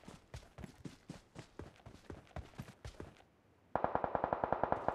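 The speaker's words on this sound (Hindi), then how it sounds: "पीछे फायर हो रहा" Gunfire in a battle royale match on the Livik map comes as a string of sharp shots at an uneven pace, then after a brief quiet a loud, rapid automatic burst fires close up.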